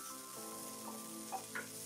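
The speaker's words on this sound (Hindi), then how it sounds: "ये भी हल्का सा सॉटे कर लेंगे।" Garlic, ginger and green chili sautéing in a hot pan for restaurant-style paneer manchurian, giving a steady close sizzle and frying hiss with a few soft stirring clinks, no voices.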